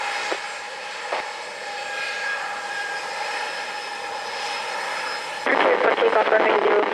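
Airliner at Montego Bay airport, Jamaica, holding a steady broadband engine roar throughout at moderate distance, growing louder and harsher near the end as power comes up; tower radio talk runs over it.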